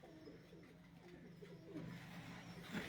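Home-bred homing pigeons kept on a rooftop loft coo softly in a quiet, layered murmur, several birds overlapping at a distance with no speech.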